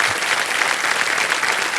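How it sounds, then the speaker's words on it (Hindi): A studio audience applauds for a police sub-inspector contestant on a televised quiz show, dense continuous clapping from a large crowd throughout. "तालियां बज जाए इनके लिए"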